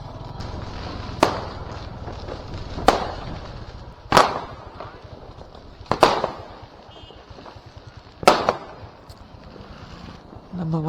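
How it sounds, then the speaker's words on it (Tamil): Diwali firecrackers burst about five times at irregular intervals, each a sharp, loud crack over a steady outdoor background hiss, with faint voices in between. "பார்த்து வெடிங்க, கீழேயே வெடிக்குது"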